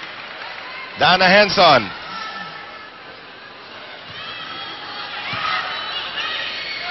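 Volleyball match crowd in the Philippines, a roaring surge of cheers and shouts rising loudly for under a second, then a lower murmur of spectators with an announcer's voice over it.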